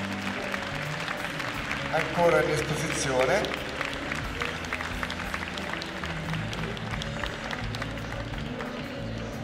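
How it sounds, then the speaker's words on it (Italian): Veteran dogs and their handlers at an international dog show get a scattered round of applause from the ringside crowd. It sounds distant and moderate under an announcer speaking over a PA in a large hall. "Io direi di dedicare a loro un applauso a tutti quanti"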